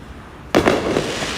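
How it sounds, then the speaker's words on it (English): A sudden loud firework burst at night over Brooklyn, Williamsburg, a sharp crack followed by a crackling, decaying rumble against background street noise. "There we go. We're getting the Brooklyn fireworks."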